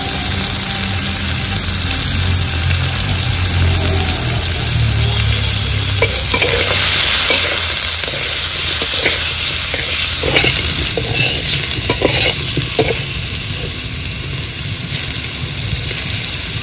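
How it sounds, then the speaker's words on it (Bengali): Potatoes frying in a pan with salt and turmeric, a steady loud sizzle throughout with occasional stirring scrapes and clicks, no voices. "এবার আলুগুলো ভেজে নেব। আলুর মধ্যে একটু লবণ হলুদ দিয়ে দেবো।"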